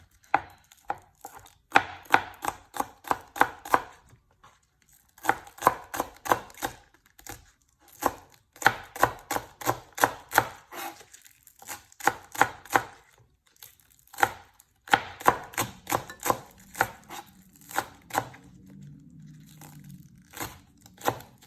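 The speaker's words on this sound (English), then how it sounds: "just chop the green onions into very small pieces" Knife chopping green onions into small pieces on a cutting board, quick bursts of rapid rhythmic taps separated by short pauses, close and crisp, with no talking.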